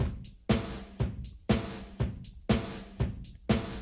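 A programmed drum pattern with toms, open hi-hats, crash and ride plays in a steady, even groove. A strong hit lands every half second, with bright cymbal wash ringing between the beats.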